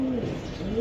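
A racer pigeon gives a brief, soft coo, a low rolling call heard close by with faint room noise behind it.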